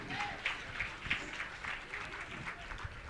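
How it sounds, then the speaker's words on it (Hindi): An audience claps loudly to honour scholars at a Jain religious gathering, a dense, sustained wash of applause filling the hall, with a voice faintly audible underneath. "आप इनके सम्मान में जोरदार तालियां बजाएंगे।"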